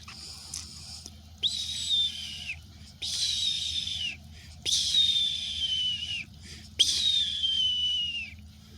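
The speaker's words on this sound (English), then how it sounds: "My whistle's not too wet." A whistle is blown outdoors in four long shrill blasts, each falling slightly in pitch, evenly spaced over a low steady background rumble.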